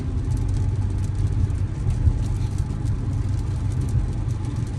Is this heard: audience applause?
no